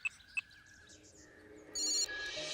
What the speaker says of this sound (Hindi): रुक मैं फोन करके बात करती हूँ।